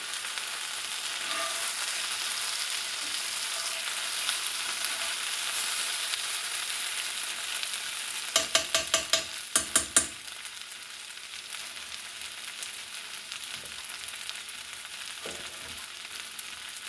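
Potatoes with onions and peppers fry in a seasoned cast iron skillet, a steady close sizzle running throughout, broken midway by a short cluster of sharp clatters from stirring or utensil knocks.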